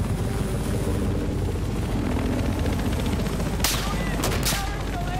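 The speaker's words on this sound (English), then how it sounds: "I'm just laying down suppressing fire" Suppressing gunfire in Battlefield 4, a loud continuous roar of rapid shots and rumble under voices, with a few sharp bright cracks standing out near the end.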